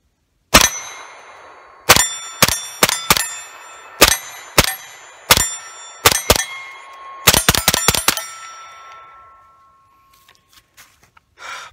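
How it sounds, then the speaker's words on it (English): Shots from an HK UMP fired on a range ring out as a string of sharp, loud cracks, first spaced singly and in pairs, then a rapid burst of several close together, with metallic ringing tails before quiet tapping at the end. "So we'll go ahead and we'll just shoot a little bit more"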